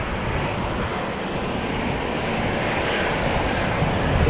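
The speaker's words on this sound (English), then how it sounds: "It does sound like GE90s being started, emanating from over there somewhere." GE90 engines on a Boeing 777 spooling up somewhere across Amsterdam Schiphol Airport, a steady broadband roar holding level and swelling slightly toward the end, with no talk over it.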